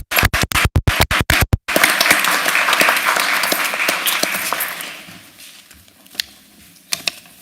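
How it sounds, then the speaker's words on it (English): Applause at a Board of Education meeting honoring students and their families: a few loud, sharp individual claps open, then dense clapping from the room swells and fades away, leaving scattered late claps. "Another round of applause for them and their families."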